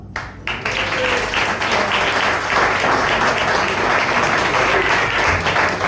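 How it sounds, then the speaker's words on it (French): A café crowd at a slam poetry night bursts into applause after a poem, dense, lively clapping rising quickly and holding loud and steady, with a low hum of room noise underneath. "Et oui, maximum d'applaudissements pour Krishna Slim."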